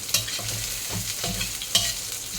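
Chilies stir-fry in a hot pan for a Thai basil meatball dish, with steady sizzling and a couple of sharp scraping clacks of the spatula against the pan, close and lively.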